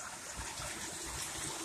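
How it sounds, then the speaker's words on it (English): Storm-drain water pours steadily into a creek springhead, a continuous broadband rush and trickle heard up close at a low level with no voices. "So there's water coming in from the left."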